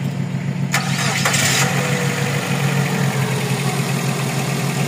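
A Suzuki APV engine cranks briefly and catches, then settles into a steady, loud idle close by, with no talk.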